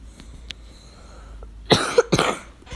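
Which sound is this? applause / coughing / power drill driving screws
coughing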